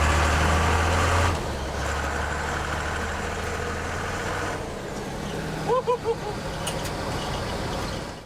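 A 1970s Ford F250 truck converted to run on a tractor diesel engine drives along, its steady, loud low drone and rumble heard from inside the cab, with a few brief chirps partway through.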